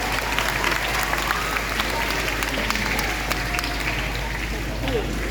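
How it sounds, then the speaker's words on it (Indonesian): Crowd of children and youth clapping at a mission children's celebration in Yogyakarta, a dense continuous patter of applause with a low steady hum beneath and voices mixed in. "Kita tepuk tangan buat kita semua."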